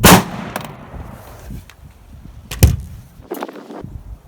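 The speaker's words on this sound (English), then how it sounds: "I'm just going to take one quick shot here" A single loud shot from a PSA 10.5-inch AR pistol fitted with a new bolt carrier group, sharp and close at the start, followed by fainter clicks and knocks.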